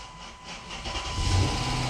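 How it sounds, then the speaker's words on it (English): A car engine with a newly installed PCM catches and keeps running, a steady broadband rumble with a ticking, hissy mechanical edge that grows slightly louder toward the end. "The car's running, guys. It's ticking, but it's running."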